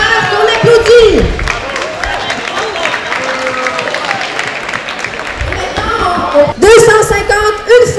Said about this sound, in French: Adjugé à la meilleure, qu'on applaudit